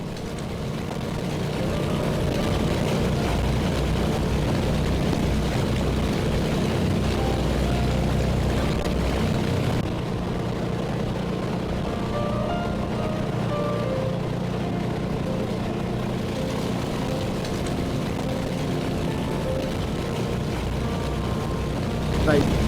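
The engines of an Avro Lancaster, a World War II bomber, roar in a loud, continuous drone that fills the whole stretch, with voices faintly mixed underneath.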